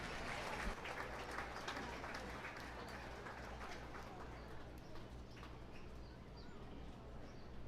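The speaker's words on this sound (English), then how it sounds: "Please, let's give a round of applause to Mr." A crowd at a 4-H swine show claps faintly for a livestock judge in a barn arena, the scattered applause low in level against a steady hum, with pigeons cooing nearby.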